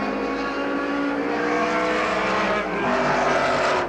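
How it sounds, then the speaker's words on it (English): A Lotus Ford Cortina touring car races through a corner during a 1969 production touring car race at Warwick Farm Raceway, its engine a loud, continuous roar that swells toward the end. "Jim McKeown in the Lotus Cortina has to get through this corner safely to take the checkered flag and win this 10-lap race"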